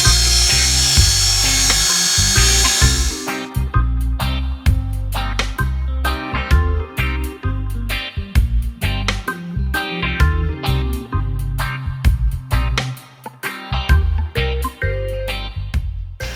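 A power drill bores holes for a stainless steel bow shield on a sailboat's bow, starting as a whine and then turning into loud, close bursts of drilling that stop and start repeatedly.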